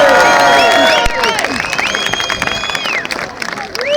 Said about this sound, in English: Give a warm round of applause, Miss Elisabeth Wolff, thank you.